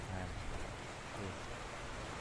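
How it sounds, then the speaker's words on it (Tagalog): Heavy rain falls steadily as broadband hiss, faint and distant, with faint voices underneath. "Malakas ang ulan"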